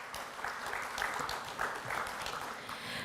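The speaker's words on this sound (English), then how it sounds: "Can we please give him a big round of applause?" Audience at a formal official ceremony applauding a speaker after his welcome address, with soft, dense clapping heard from some distance, rising in small swells and then holding steady.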